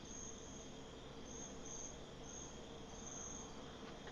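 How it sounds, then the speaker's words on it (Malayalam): A constant high, faint insect drone with pulsing whine in the GTA 5 video game, on a lonely hillside setting, heard alone without talk. "ഈച്ചയൊക്കെ പറക്കുന്നുണ്ട് കേട്ടോ ഒത്തിരി"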